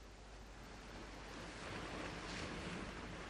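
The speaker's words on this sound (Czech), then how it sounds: "Jenom se houpe moře." Sea waves wash and rock below a cliff, a faint, steady surf hiss mixed with wind noise that swells gently without any voices.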